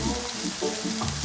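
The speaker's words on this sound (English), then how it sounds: "So at this point, I'm throwing in my garlic." Garlic cloves frying in olive oil in a pan for chicken scampi, a steady close sizzle with light stirring noises throughout.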